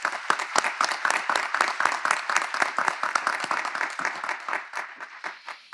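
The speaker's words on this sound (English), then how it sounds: "Please join me in a round of applause for those members of our community" A graduation audience at the College of Coastal Georgia's 2021 ceremony claps steadily and densely for the full length, a sustained wash of many hands with no voices on top.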